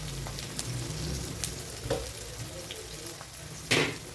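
Onions sizzle softly and continuously in oil, broken by a few scrapes of a spoon against the pan.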